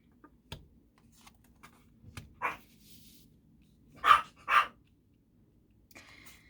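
Dogs bark indoors or nearby, three short moderate barks spaced apart, with faint tapping clicks and quiet background between them.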